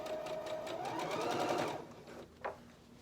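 A sewing machine stitches a quarter-inch seam along the edge of quilt fabric, its needle running in a fast, steady close-up whir for about two seconds before slowing, followed by a short mechanical clunk.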